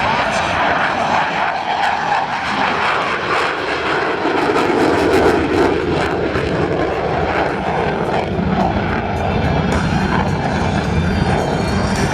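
An F/A-18E Super Hornet performing an air show demonstration at Sun 'n Fun 2012, its jet engines roaring loudly and continuously as it turns overhead, with an announcer speaking over the noise.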